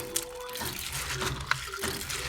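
Tap water runs steadily over black beans being washed in a kitchen, with close splashing and a few small clinks and knocks as the beans are stirred.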